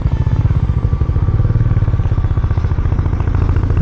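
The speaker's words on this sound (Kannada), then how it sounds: "ನೋಡಿ 4th ಗೇರಲ್ಲೂ ಗಾಡಿ ಹತ್ತಾ ಇದೆ" Harley-Davidson X440 motorcycle engine pulling steadily in fourth gear during a test ride, a loud, continuous low rumble with rapid regular firing pulses and a faint rattle running close throughout.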